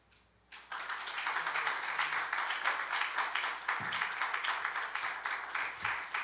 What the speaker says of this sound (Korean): 우리 목사님 나오실 때 큰 박수로 또 환영의 인사를 하도록 하겠습니다